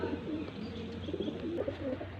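Dabwala golden pigeon cooing in soft, repeated low coos, close by over a steady background hum, with no talking.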